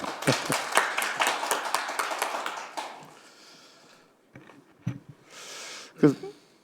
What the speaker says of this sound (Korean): AI 시대의 교육에 대해서, 그 책에 대해서도 박수 한번 쳐주시죠